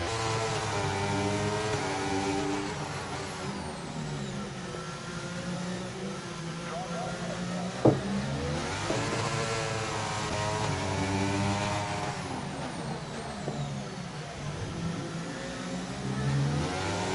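Formula 1 race cars in a Mercedes battle during a Baku racing video game race, with high engine whine and rising, falling gear-change sweeps running throughout under a commentator's continuous talk.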